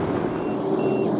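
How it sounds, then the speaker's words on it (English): Warning beeper on a boat entering shallow water on Lake of Bays, near the town of Dorset, sounding as thin electronic tones over a steady engine drone. "Oh, something's beeping here. Entering shallow water."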